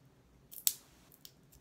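Protective plastic film is peeled off a makeup brush, giving one short, crisp crackling rip in a quiet room, with fainter rustles just before and after.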